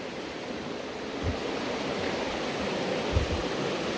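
The river Gelt rushes steadily below the fells in a broad, continuous roar of flowing water, loud and close, with no voices over it.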